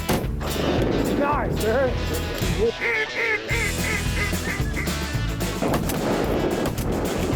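Shotguns firing at point-blank range during a duck hunt in Hyde County, with loud booming shots under constant duck quacking and honking, and someone speaking briefly.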